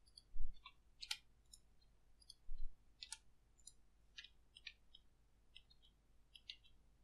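A computer mouse clicks quietly while working in Blender, a series of crisp, scattered single clicks with short pauses between them, close and faint.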